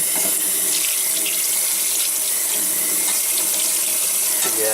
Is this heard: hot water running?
yes